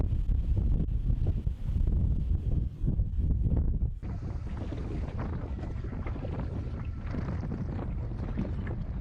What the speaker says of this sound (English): Wind had got up, and so we went for a really fast sail through the Sound of Jura